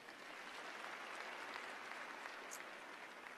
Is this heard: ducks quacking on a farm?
no